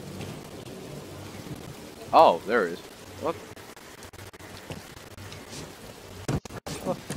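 Steady rainfall with thunder in the video game Star Wars Jedi: Fallen Order, a soft, even wash of rain with low rumbles beneath, while someone talks briefly over it.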